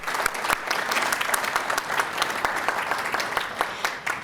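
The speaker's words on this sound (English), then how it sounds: "let's give them a big round of applause." A crowd at a Keep Louisiana Beautiful event gives a big round of applause for the PR committee and staff, a dense burst of close clapping that holds steady throughout.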